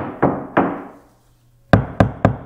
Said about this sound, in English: We could just tell by knocking on it.